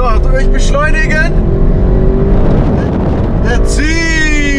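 An Audi RS6 launches hard in a drag race, its engine a loud, continuous roar whose pitch sweeps steadily upward through the gears, with voices talking over it.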